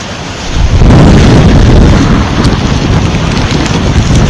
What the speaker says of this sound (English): You gotta get it out into the wind